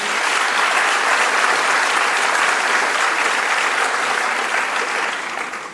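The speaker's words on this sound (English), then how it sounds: "In any case, an applause for her, because she's also graduating." An audience at an MBA and EMBA graduation ceremony applauds in a full, dense, continuous burst of clapping, loud and steady, then tapers off at the very end.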